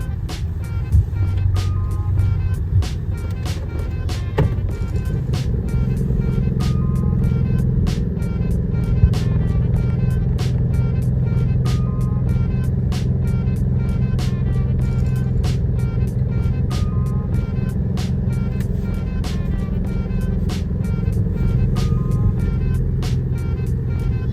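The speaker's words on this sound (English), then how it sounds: "Let's reverse and let's face the front of the car to your right." A car's reversing alarm beeps steadily and evenly throughout during a driving test, over a constant low engine hum inside the vehicle; no talking.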